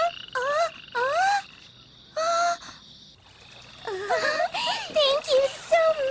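A cartoon toad in an animated Thumbelina story gives a series of croaks. Several separate calls come in the first half, then a busier stretch of warbling croaks follows, clear and up front with a faint background.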